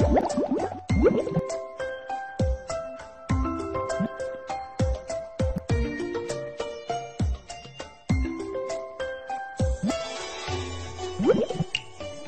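Cartoonish shower water in the Shimmer and Shine Genie Palace Divine kids' game rinses a pet, heard as bright drips and splashy plops in a quick, bubbly run of playful, tuned liquid sounds.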